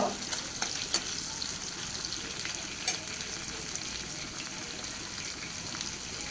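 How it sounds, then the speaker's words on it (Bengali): Chopped onions frying in hot oil for a sea ribbonfish dish, a constant bright sizzle with occasional crackles and spoon scrapes, close and steady with no talking. "আমার তেলটা গরম হয়ে গেছে আমি পেঁয়াজগুলোকে একটু হালকা করে বেজে নিব"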